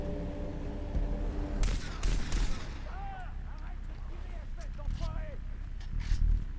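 Gunfire in the video game Far Cry 3, a quick cluster of sharp broadband shots near the start followed by a few scattered distant pops over a busy game soundtrack with voices.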